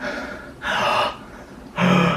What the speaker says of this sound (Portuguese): tô respirando pela boca